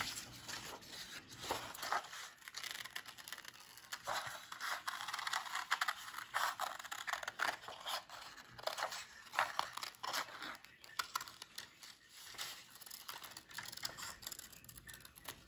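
Scissors cut around a small oval of crayon-coloured paper for a Tomten craft, a steady run of close, crisp snipping and rustling paper lasting throughout with no talk.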